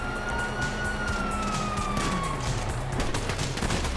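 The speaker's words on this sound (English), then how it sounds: "You hear that? Sirens!" A police siren wails and slowly falls in pitch amid bursts of gunfire and game action noise in Grand Theft Auto V.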